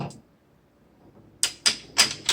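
A cartridge being loaded from the top into an open bolt-action rifle: after a brief quiet, four sharp close metallic clacks follow in quick succession, with a faint voice at the very start.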